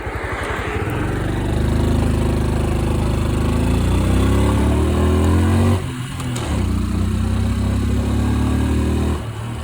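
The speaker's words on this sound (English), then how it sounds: "I have a small motorcycle called a Honda Super Cub." A Honda Super Cub small motorcycle engine runs close by, a loud steady buzzing putter that dips briefly around the middle before resuming its even idle-like drone.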